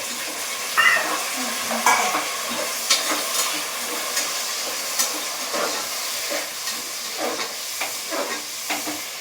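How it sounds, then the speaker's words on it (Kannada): Vegetables and peas frying in oil, a steady sizzle broken by regular clinks and scrapes of a spoon stirring against the pan, close by and unaccompanied by talk. "ನಾನು ವೆಜಿಟೇಬಲ್ ಎಲ್ಲ ಚೆನ್ನಾಗಿ ಎಣ್ಣೆಗೆ ಫ್ರೈ ಆಗಿದೆ"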